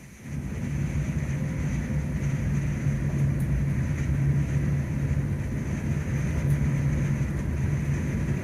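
Steady low rumble of an East Midlands Railway passenger train running between Corby and St Pancras, a constant droning roar with a faint hum and occasional light rattles, no voices.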